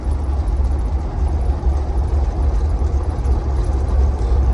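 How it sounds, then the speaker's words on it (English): A 1956 Mercury Montclair engine idles nearby, a steady low rumble with a gentle rhythmic pulse and no voices. "leave it running, I'll get out and do a walk around with it idling"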